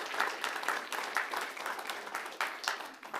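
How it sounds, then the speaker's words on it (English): An audience at a school board meeting applauds a group of honorees, a moderately loud patter of clapping hands with uneven swells, lasting a few seconds without speech. "If you'll join me in giving these folks a round of applause."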